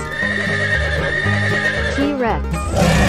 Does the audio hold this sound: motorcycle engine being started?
no